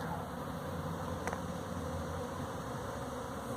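A swarm of bees buzzes around their caged queen, making a faint, steady, continuous hum outdoors with no break across the moment.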